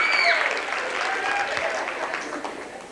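A middle school assembly audience gives a steady round of applause, dense clapping throughout with faint higher calls or whistles drifting above it.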